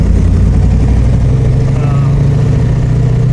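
A 1967 Shelby GT500 with a hydraulic roller racing cam and roller rockers gives a steady, loud, low exhaust rumble that holds through the whole stretch without talk.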